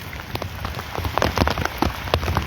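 Rain falls on a hillside, pattering as a dense, steady wash with sharper individual drops striking a nearby surface, close and fairly loud.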